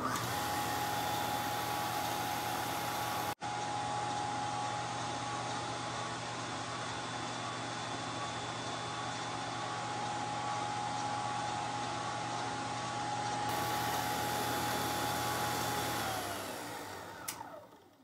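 An engine fitted with a GM 3-wire alternator runs with a steady, even mechanical hum for most of the stretch, then spins down and falls quiet near the end.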